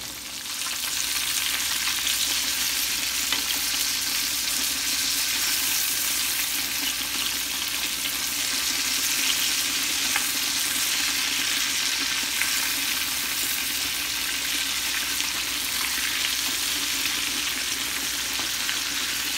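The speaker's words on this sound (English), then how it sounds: "so start frying your chicken" Chicken frying in hot oil in a pan, giving a steady, loud, close sizzle that runs unbroken throughout, with no talking.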